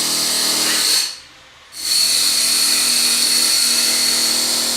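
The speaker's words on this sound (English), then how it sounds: "I don't know if there's construction happening in the background" Loud, steady whine of construction power tools running in the background, cutting out for under a second and then resuming at full strength.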